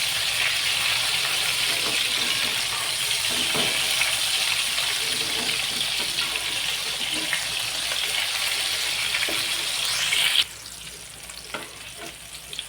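Prawn adai frying in a pan gives a close, steady sizzle with faint scraping; near the end the sizzle suddenly drops to a quieter crackle.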